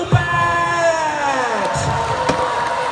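Crowd cheering and whooping at a school sports day as a team parades past, a mixed roar of voices with a rising shout at the start and a few sharp bangs, all continuing steadily.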